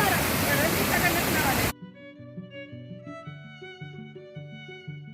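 A loud, roaring rush of water pours over an overflowing dam in monsoon season for under two seconds, then cuts abruptly to music.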